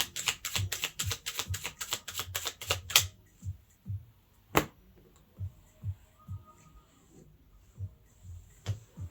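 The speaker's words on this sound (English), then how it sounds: "The cards fell." Tarot cards are shuffled in a rapid burst of crisp riffling snaps, followed by a few scattered soft slaps and taps as cards fall, close and quiet.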